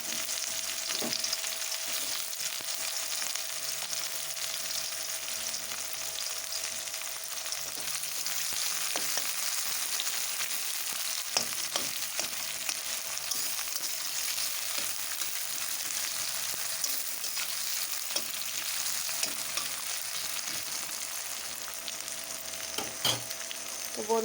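Chopped onions fry in oil with a soft, steady sizzle for a long stretch, dotted with faint clicks and taps of stirring, quiet and even, with no one speaking, while mung dal is being cooked with a rohu fish head.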